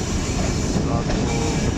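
The 122 DN Ravi Express runs between Lahore and Shorkot in hot weather, heard from inside a fairly empty carriage as a steady, dense rumble of wheels and rattling.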